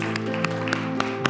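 A congregation at a Sunday church worship service in Ann Arbor claps in a steady beat, roughly one clap every quarter second, over sustained organ-like music chords.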